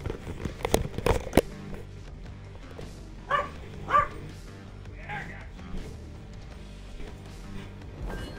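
Dog barking during Payday 3 on Xbox Series S, a few sharp barks near the start followed by softer yips and whimper-like sounds at moderate distance, with some faint background noise.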